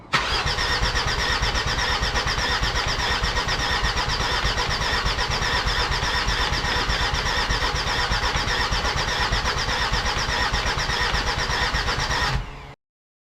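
A Jeep Grand Cherokee WJ with a 2.7 CRD OM612 diesel starts up on its newly fitted engine and runs at a steady, loud, rough clatter for about twelve seconds before cutting off abruptly.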